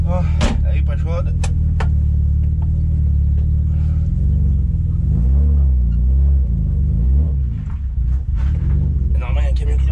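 Cold BMW 325i bi-turbo engine idling with a loud, deep, steady rumble close by, a few sharp clicks early on, and someone speaking over it.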